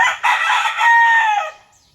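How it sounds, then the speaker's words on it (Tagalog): Rooster crowing at a backyard poultry coop in a rural province, one long loud close cock-a-doodle-doo call lasting over a second with clucking texture, heard alone with no talk. "Yan yung manok niya."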